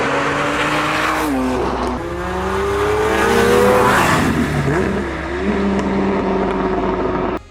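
A Lamborghini 6.2-liter engine revs hard and continuously, its pitch rising and falling through several sweeps, with a loud, close, sustained roar and no talk over it.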